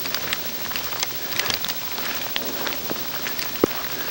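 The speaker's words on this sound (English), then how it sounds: "Because it's really sleeting." Sleet falling outdoors, a dense steady patter of icy pellets hitting surfaces with scattered sharper ticks, continuous and moderately close with no voices.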